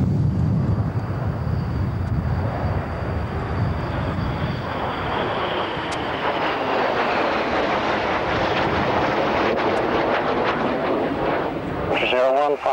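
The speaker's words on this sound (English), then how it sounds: "Display, jet stream ready for departure." A jet departs at the 1991 RAF Valley airshow with a loud, sustained roar that builds and holds throughout, while radio talk continues over it.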